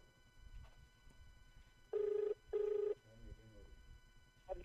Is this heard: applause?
no